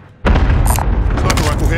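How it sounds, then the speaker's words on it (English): A single heavy boom from a sniper rifle shot in a video game, loud and close, followed by a rumbling tail with game noise layered over it. "Sniper rifle hit."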